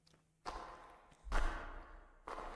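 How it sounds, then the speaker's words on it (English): Three heavy, scraping footsteps land slowly one after another, close and muffled, with near silence between the thuds. "This is like horror footstep sounds."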